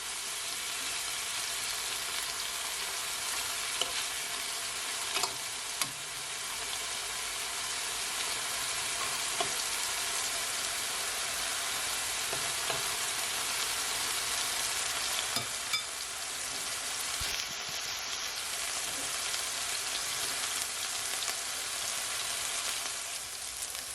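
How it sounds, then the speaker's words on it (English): Chicken frying in a pan gives a steady, dense crackling sizzle that holds evenly the whole time, with a few small pops and clicks and no voices. "So when I'm finished, I'm gonna fry my other batch."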